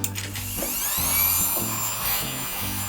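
A small universal mini drill press motor whines at a steady pitch through a dull bit, dipping briefly a few times as the bit bites into material.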